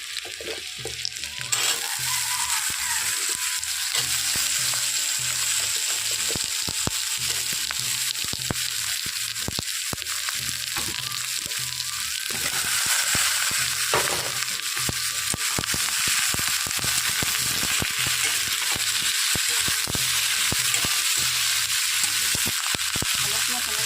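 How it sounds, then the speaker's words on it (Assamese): Brinjal pieces frying with dried fish, green chilli, ginger and garlic in a pan, a steady loud sizzle with occasional stirring scrapes, continuous throughout. "মই এতিয়া দি দিম বেঙেনাখিনি"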